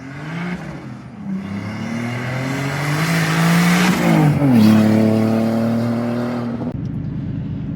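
Turbocharged BMW E46 fitted with a CXRacing kit accelerating hard on a test drive, the engine note climbing loud and close through a gear change before easing off, with a brief tire chirp.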